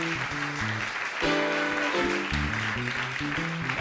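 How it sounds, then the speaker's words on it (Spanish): A studio television audience applauds to welcome Odón Elorza, former mayor, on a 16TV talk show, with steady clapping under tonal music throughout. "vamos a recibirlo con un fuerte aplauso"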